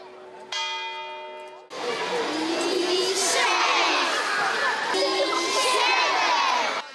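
Children shout and cheer in a loud crowd below a town hall clock tower in Poland at noon, where two mechanical goats butt horns; a church bell rings first, then sustained excited shouting carries on.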